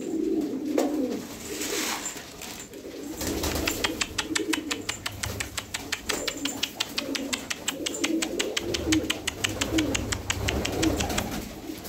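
Fancy pigeons of Budapest tumbler type coo in a loft with other flight breeds, soft repeated coos layered over a steady run of rapid clicking or fluttering taps, fairly close and continuous with no talking.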